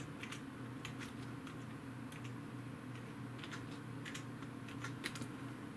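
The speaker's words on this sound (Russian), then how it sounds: "В поисковой строке набиваем название аппарата." Quick bursts of keystrokes as a device name is typed into a browser search bar on a computer keyboard, light clicky taps in irregular clusters over a constant low hum.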